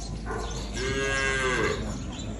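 A cow moos once in a long, drawn-out call on a farm, close and clear over steady low background noise.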